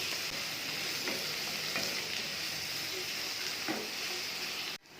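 Ridge gourd pieces dropped into hot oil over tempering spices, a loud, close, continuous sizzle with faint stirring scrapes, cutting off sharply just before the end.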